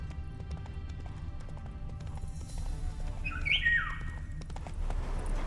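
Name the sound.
horse Roach galloping in The Witcher video game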